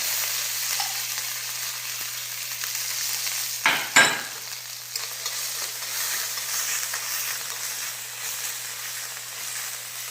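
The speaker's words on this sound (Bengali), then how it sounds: "তেল দিয়ে দিয়েছি, এবার তার উপর দিয়ে দিলাম হিং, তারপর দিয়ে দিলাম থেতো করে রাখা আদা আর কাঁচা লঙ্কা।" Asafoetida, crushed ginger and green chili fry in hot oil with a steady close sizzle, broken around the middle by a louder burst of spitting as the ginger and chili hit the pan, then settling back to even frying.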